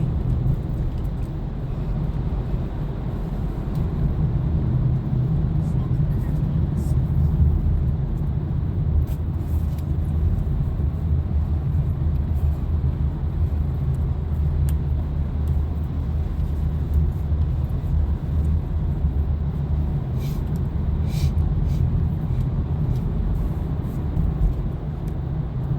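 A car drives through a long road tunnel in Seoul, making a steady, loud low rumble of engine and tyre noise that holds unbroken throughout, with faint ticks on top.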